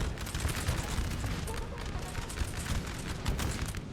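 Artillery fire in a Napoleon: Total War 4v4 battle, a dense, continuous rumble of overlapping cannon blasts and musket volleys that stays loud and steady throughout.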